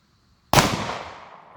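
A single sharp gunshot from a small Ruger concealed-carry pistol at a shooting range, one loud crack with a decaying tail after a moment of near silence.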